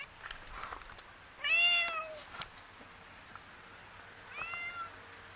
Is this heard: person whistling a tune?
no